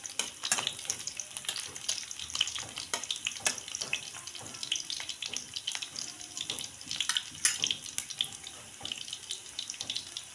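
Garlic sautés in a pan with a soft, continuous crackling sizzle and scattered small pops and ticks, quiet and close, with no talking.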